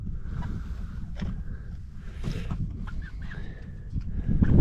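Chickens eating on top of an outdoor picnic table in freezing winter weather, with soft intermittent clucks and pecking sounds over a steady low rumble, close by and without speech.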